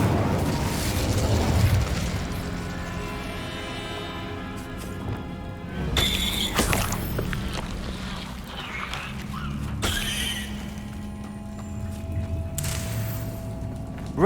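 The Incendio fire spell cast in Hogwarts Legacy erupts in a burst of fiery blasts and crackling game effects, with sharp booming hits recurring over a steady, dense layer of magical rumble.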